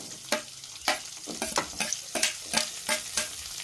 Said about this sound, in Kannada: ಎಣ್ಣೆ ಒಳಗೆ ಚಲೋ ತೆಗಿ ಫ್ರೈ ಮಾಡ್ಕೊಳ್ಳ್ರಿ